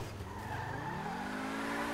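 A broken, smoking car drives in GTA 5, its engine note rising in pitch with a squealing, skidding tone as it accelerates, fairly faint and brief, with no talking.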